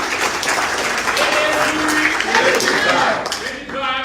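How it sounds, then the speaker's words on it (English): An audience at a party presidential primary event gives a party official a round of applause, loud dense clapping filling the whole stretch, with voices mixed in and the clapping thinning toward the end. "Please, an round of applause for him."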